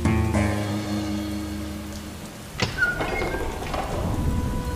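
Rain patters steadily on surfaces in a video game, a soft continuous wash with a brief thunder-like crack partway through and faint bird chirps, no talking.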